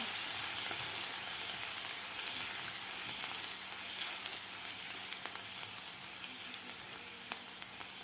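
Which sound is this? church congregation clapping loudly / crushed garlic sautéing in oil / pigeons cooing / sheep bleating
crushed garlic sautéing in oil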